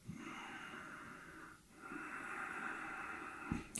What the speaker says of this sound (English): So we can try nose, nose, slow Ujjayi breath.